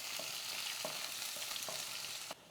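Onions, curry leaves and dried chillies sauté in oil for a beetroot stir-fry, a faint, steady sizzle broken by a few light scrapes of stirring, close by and without speech.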